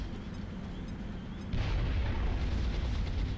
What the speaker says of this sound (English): Tommy, I'm going to have you heave ho on the HE grenade